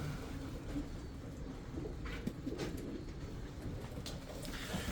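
Fancy ornamental pigeons offered for sale coo softly and steadily in a loft, a low continuous murmur of calls with a few brief higher sounds, no talking.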